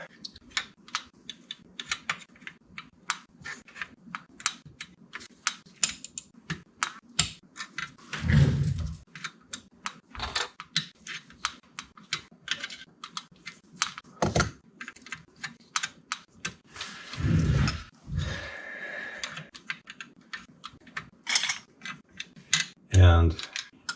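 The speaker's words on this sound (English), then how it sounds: "we'll begin putting these keys where they belong and go from there." Keys being fitted onto a Pro One synthesizer keyboard during repair, a long series of sharp plastic clicks and taps, close and uneven, with a few louder knocks and a person talking now and then.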